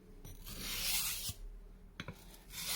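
Close, breathy scraping of a Morakniv Hunter 1701 knife edge being refined on a coarse 220 grit stone, a long sweeping stroke followed by a few shorter rasping passes.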